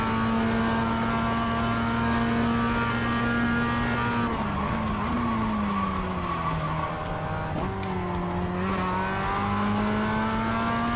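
A Mazda Miata race car engine in the iRacing sim drones steadily at high revs, its pitch dipping and climbing through gear changes and corners, with tire squeal layered over the continuous loud engine tone.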